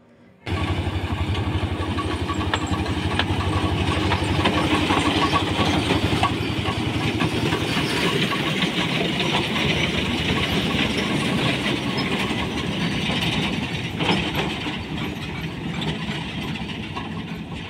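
Toy train ride at the Howrah Rail Museum in Kolkata: a loud, continuous rumble of a moving train heard from on board, with a steady rhythmic clatter and engine drone throughout.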